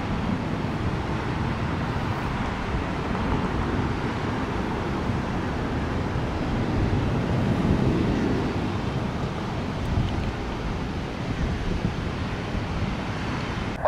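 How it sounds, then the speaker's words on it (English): Strong wind at Cypress Point Park, Tampa, buffets the microphone continuously, a loud low rumbling roar with gusts swelling and easing, no voices. "Yep, it's windy."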